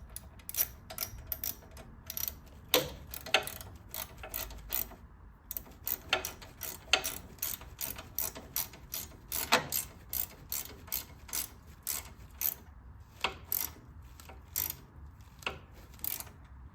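A hand ratchet wrench tightens a crash bar bolt on a 2009 police special motorcycle. Quick, fairly faint clicking strokes come in irregular runs, broken by brief pauses.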